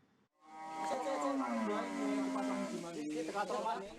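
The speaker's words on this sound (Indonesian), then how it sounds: "Seekor sapi betina di Banyumas tercebur sumur sedalam 10 meter." A cow that has fallen into a 10-metre well lets out a long, loud moo, a drawn-out bellow lasting several seconds, heard fairly close with no talk.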